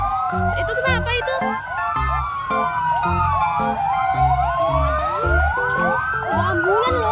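Loud wailing ambulance siren passing a town square in Purworejo, the pitch sweeping up and down in overlapping cycles above steady low thumping beats, with a busy outdoor crowd around.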